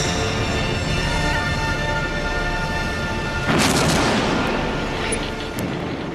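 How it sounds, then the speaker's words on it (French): British warships fire naval artillery at the battleship Bismarck in a dense, continuous rumble of distant heavy gunfire, with a louder, sharper blast breaking out midway through the barrage. "les navires britanniques tirent près de 3000 obus sur le Bismarck"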